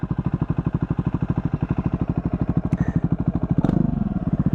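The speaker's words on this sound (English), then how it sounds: "Listen to that exhaust." A Triumph Scrambler 400X motorcycle engine chugs at idle with a loud, rapid, evenly pulsing exhaust beat, close up, with a brief clatter near the end.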